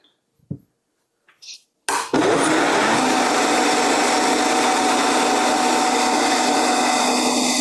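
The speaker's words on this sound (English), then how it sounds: "So let's blend some more." A blender whirs loudly and steadily as it blends cashews, kicking in after a few soft clicks and handling noises and then running continuously at full volume.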